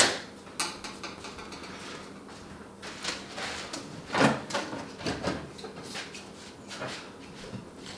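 Clicks, light knocks and a few sharper clanks come from hardware being handled while a handle is fitted to the door of a Pellethead Poboy pizza oven. The sounds are close and irregular, with no talking.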